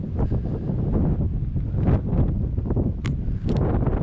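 Strong wind buffets the microphone with a constant low roar and gusty rumble throughout, loud and unbroken, in a windy area full of windmills.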